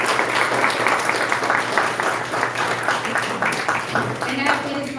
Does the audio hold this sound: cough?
no